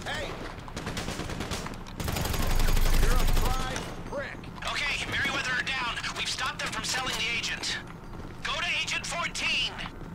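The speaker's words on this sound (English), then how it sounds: "I'm, like, firing at nobody" Rapid gunfire bursts in GTA 5 Online, loud and dense for a couple of seconds, then scattered shots and game sounds continuing under casual talk between players.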